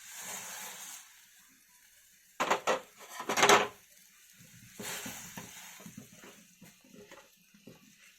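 Milk boils at a steady bubble in a cooking pot while golden brown vermicelli is added for semiya payasam. Short splashing, bubbling bursts rise over a soft simmer, then quieter, scattered bubbling follows.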